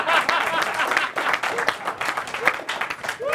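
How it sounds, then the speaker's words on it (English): A studio audience claps after a comedy sketch, an uneven burst of hands with a few voices calling out, rising and dipping in short waves. "Please clap."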